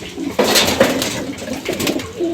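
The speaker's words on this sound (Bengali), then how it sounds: "এই পাশে সব মেল কবুতর দেওয়া আছে।" Several racing pigeons in a loft coo in low, rolling phrases at close range, with faint clatter and shuffling behind the calls.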